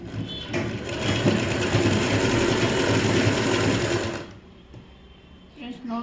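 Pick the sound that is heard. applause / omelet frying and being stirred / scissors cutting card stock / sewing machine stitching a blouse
sewing machine stitching a blouse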